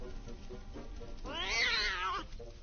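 Wild cat in the Scary Stranger 3D game lets out a single rising, wavering meow, close and clear over a low background hum, no talking.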